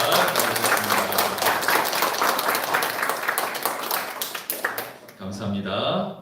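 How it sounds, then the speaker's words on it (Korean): A church congregation at a Sunday service applauds in welcome, a dense wash of clapping for about five seconds with a voice speaking over it, then the clapping fades and speech continues. "환영의 박수 드리겠습니다"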